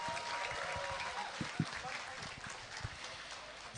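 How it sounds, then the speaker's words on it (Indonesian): A crowd applauds at a political campaign gathering in Lampung, a fairly faint, steady patter of clapping with a few sharper claps standing out. "Tepuk tangan untuk kita semua."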